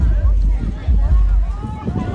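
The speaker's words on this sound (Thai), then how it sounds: "วันนี้อ่ะ บรรยากาศหนาวนะครับ ลมหนาว หนาวอีรีกันนะครับ" Cold, dry wind buffets an outdoor microphone at a mor lam event in Kalasin, Thailand, producing a constant low rumbling roar with gusty surges while someone talks over it.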